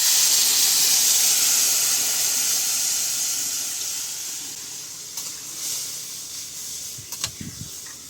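Water hits a hot pan of tilapia fish curry with potatoes, turmeric and salt, letting out a loud, steady steam hiss and sizzle that slowly fades, with a few light stirring knocks near the end.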